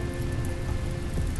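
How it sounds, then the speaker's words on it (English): Rain falls in the Rimworld game, a soft continuous wash of patter with a faint steady tone running beneath it, even and unbroken, with no voices. "Now it's raining."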